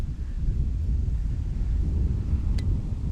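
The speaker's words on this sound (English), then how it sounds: "It is so damn windy out here." Strong outdoor wind buffets the microphone in a steady, loud low roar for about three seconds, with a single brief click near the end and no talking.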